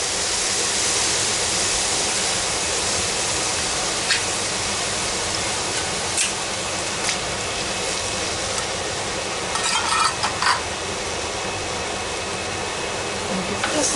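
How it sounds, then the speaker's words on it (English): Mushrooms and their juice pour into venison stew in a cast iron pot, making a loud, steady sizzle and hiss that runs throughout, with a few faint clinks near the end. "I'm going to add my mushrooms with the juice."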